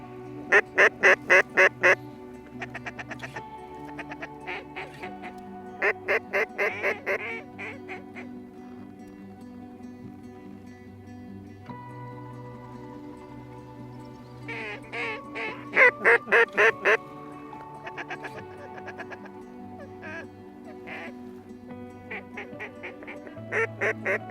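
Mallard ducks quack in loud repeated bursts, several birds calling together, with quieter honking and calls between the bursts and no talking.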